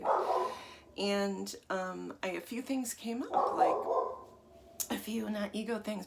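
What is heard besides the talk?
dog barking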